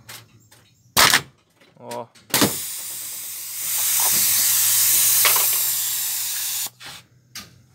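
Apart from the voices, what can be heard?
homemade pneumatic can crusher crushing a can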